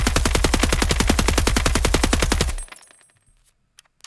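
MDR rifle in the video game Escape from Tarkov firing a long, rapid full-auto burst of evenly spaced loud shots for about two and a half seconds, then stopping abruptly into a quiet tail with a few faint clicks.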